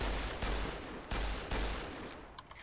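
Sniper fire in Fallout New Vegas during a fight at the Hoover Dam: several loud, close cracking shots land about half a second apart over continuous battle rumble, with faint clinks near the end.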